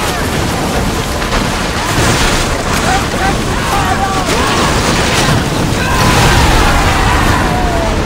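Ship weapons fire in a naval battle in Assassin's Creed Odyssey, a dense, continuous rumble of booms and bursts with scattered higher whistles, steady and loud throughout, with shouting voices mixed in.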